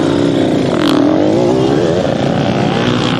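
Motocross dirt bike at East Fork MX, its engine droning loud and close as the rider shifts into fourth gear, pitch dipping then settling into a steady lower roar, no talk.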